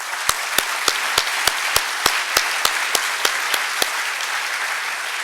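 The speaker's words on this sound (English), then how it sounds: "a big applause for this team." Applause from a conference audience for the event staff, steady close crowd clapping with a few sharp rhythmic claps standing out before they stop and the clapping thins.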